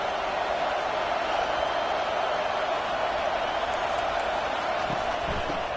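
Steady roar of a stadium crowd in the NCAA 25 college football video game, a dense, continuous wash of cheering noise at even loudness for the whole stretch, with no distinct voices standing out.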